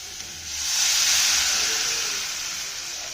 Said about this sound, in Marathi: तर आता पाणी ओतून घेते.